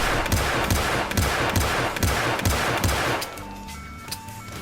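Rapid bursts of gunfire from a gun in the game Hitman, loud sharp shots in quick rhythmic succession for about three seconds before cutting off into quieter game ambience.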